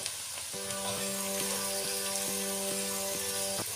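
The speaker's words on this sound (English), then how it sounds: "Now I heat up my oil and I added my chopped onion and fry for about 5 to 7 minutes." Chopped onion frying in hot oil in a pot for Nigerian jollof rice, a steady bright sizzle throughout with a faint low hum and a few light clicks, close and continuous with no talking.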